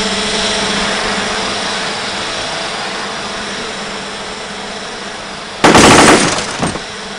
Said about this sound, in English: I'm going to blow this thing up.